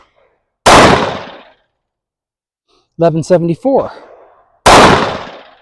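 Two loud, sharp 10 mm pistol shots from an XDM Elite at an outdoor range, each with a long decaying tail, about four seconds apart, with a brief spoken number between them.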